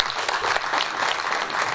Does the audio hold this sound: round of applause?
yes